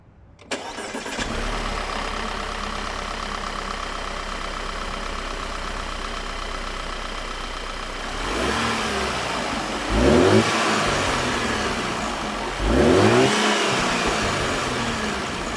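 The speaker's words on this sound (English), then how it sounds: "We're gonna rev her up and see how she sounds like." A car engine fitted with a cone air filter cranks and catches, then idles steadily before being revved twice, each rev swelling loudly and dropping back to idle.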